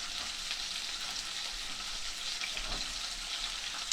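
Six pork chops fry in a pan with a steady, close sizzle and crackle, a dense broadband hiss that holds evenly throughout with no talking.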